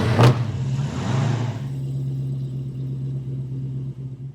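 A 1968 Ford Mustang Fastback fitted with Holley Sniper EFI pulls away, its engine giving a brief rev at the start and then settling into a deep, even rumble close by.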